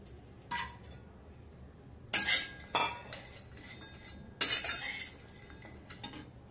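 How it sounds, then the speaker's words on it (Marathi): Grated coconut and cashews dry-roasting in a pan for winter dink ladoo, heard as a few sharp scraping stirs and clinks of a spatula against the pan, separated by quiet gaps, close and fairly soft. "हे आता खोबरं थोडं भाजून घ्यायचं।"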